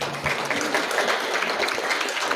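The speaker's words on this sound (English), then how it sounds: "How about another round of applause" Steady, full-room applause from an audience at the Lakota Media Summit continues evenly throughout, a wash of many hands clapping at once with no gaps.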